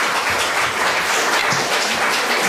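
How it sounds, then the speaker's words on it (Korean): A church congregation applauds in welcome as the pastor comes forward at a Sunday service, a dense, continuous wash of clapping at steady loudness with no voices standing out. "목사님 나오실 때 환영의 박수로 맞이하도록 하겠습니다"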